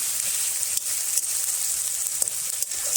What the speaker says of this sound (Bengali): রসুন বাটাটা দিয়ে ভালো করে কষিয়ে নেব।